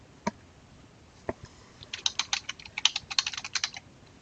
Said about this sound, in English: So I'm just typing in my search.